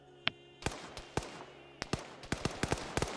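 Gunfire in a tactical one-life PvP military video game, a series of sharp single shots in irregular rhythm, some close and some more distant, fairly quiet overall.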